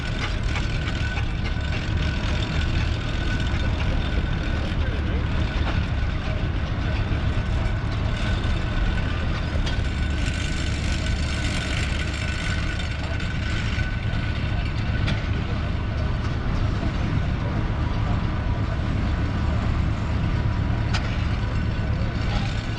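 A steam traction engine runs continuously nearby at a steam rally, a steady low mechanical rumble with a thick chugging drone that never lets up.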